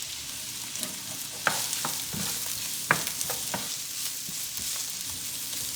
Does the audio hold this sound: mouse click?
no